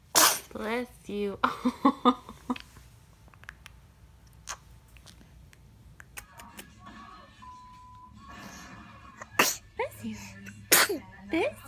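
A baby sneezes several times in quick succession, with short bursts scattered through the stretch, while an adult voice talks nearby.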